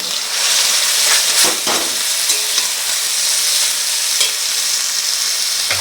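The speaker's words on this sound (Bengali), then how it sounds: "ঝিঙের পাতাটা এর ভিতর দিয়ে দিলাম একটু একসঙ্গে সব নেড়ে দিল" Ridge gourd leaves and onion are tossed together in a hot pan, hissing loudly and continuously while a utensil scrapes through them in a few quick strokes, with no voices.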